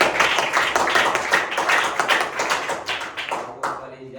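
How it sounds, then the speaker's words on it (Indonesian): A class gives a round of applause for group 4 in a grade 8 lesson: brisk, close group clapping with sharp individual claps, steady for about four seconds before tapering off. "Tepuk tangan untuk kelompok 4."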